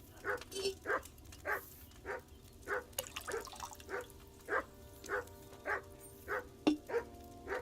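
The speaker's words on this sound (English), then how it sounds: "What is my dog doing? Making a noise." A dog barks in a regular rhythm, short yelping barks spaced about every half second, fairly close, with a couple of whimpering notes mixed in over a low steady background hum.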